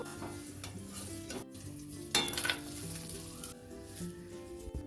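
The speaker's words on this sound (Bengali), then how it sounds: "চালটা নাড়তে নাড়তে যখন দেখবে পুরো সাদা হয়ে গেছে তখন বুঝবে চালটা পুরো ভাজা কমপ্লিট হয়ে গেছে" Steady sizzling of rice frying in a pan until white, with scraping stirring strokes and a few louder clatters partway through; no voices.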